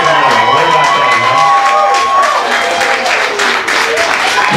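Studio audience at a heavy metal music show gives loud applause and cheering, dense clapping with shouts and whoops across the whole stretch.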